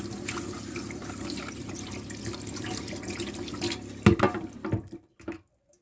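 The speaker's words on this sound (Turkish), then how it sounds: "Evet deniz suyu filtremizi şimdi yıkıyoruz" Water runs steadily as a boat's sea water strainer filter is rinsed, then a few splashes and knocks before the flow stops and it falls quiet.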